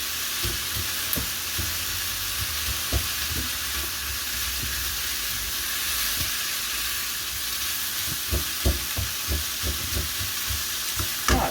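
Bacon and onions fry in a pan with a constant bright hissing sizzle, broken by intermittent stirring knocks and scrapes nearby, and no talking.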